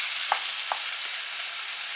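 Minced meat cooking in a pan over a medium flame hisses in a steady, close sizzle, with two light taps of a spoon near the start, and no voices.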